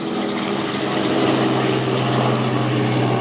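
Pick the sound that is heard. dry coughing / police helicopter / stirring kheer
police helicopter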